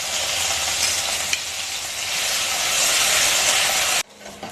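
Grated ginger sizzles steadily and loudly in hot oil with asafoetida in a frying pan while vegetarian pea ghugni is cooked, a continuous bright hiss that cuts off abruptly near the end.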